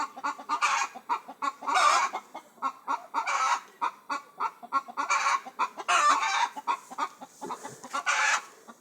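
Around five hens and a rooster cluck in repeated bursts at a small poultry enclosure, their calls overlapping in a busy, uneven rhythm at moderate distance.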